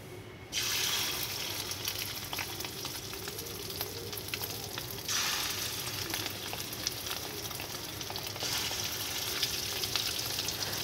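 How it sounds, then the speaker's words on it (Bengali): Prawn fritters fry in hot oil in a wok in a village kitchen, giving a steady, continuous sizzle that holds at an even level from start to finish. "আর যে বড়া ভাজবো তার জন্য কড়াইতে তেল দিয়ে তেলটা গরম করে বড়াগুলো ছেড়ে দেব"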